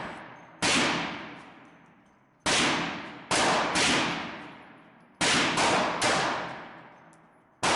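Tanfoglio GT 380 semi-automatic pistol fired at an indoor range target: six loud, sharp shots in uneven spacing, some in quick pairs, each followed by a long reverberant decay.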